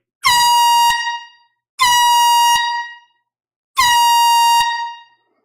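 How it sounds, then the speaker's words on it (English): Three loud air horn blasts during a live record sale, each lasting under a second and separated by short pauses, ringing out alone. "we're going to do 3 air horns"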